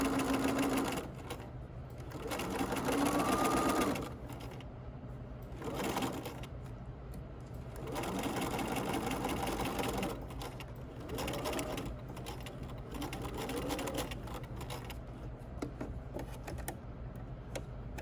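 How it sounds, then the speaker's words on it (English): A sewing machine stitches a hoodie pocket in fast, even runs of mechanical chatter, stopping and starting several times with short pauses in between, heard close and fairly quiet. "just make sure your fabric is laying flat as you are sewing it"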